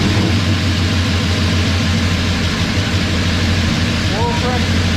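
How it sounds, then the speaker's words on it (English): A 1984 Chevy truck engine, being restarted after a teardown, runs with a loud, steady low rumble close by, with no clear break in the sound. "just crank it over, see what it does."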